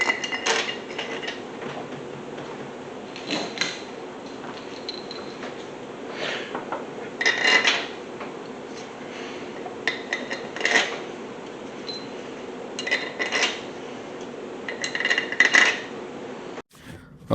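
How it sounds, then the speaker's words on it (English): Metal bolts clink and rattle as they are set into the holes of an engine cylinder head, with sporadic light metallic taps and clatters over a steady background hiss, no one speaking. "Okay, now I can put the bolts down into the holes."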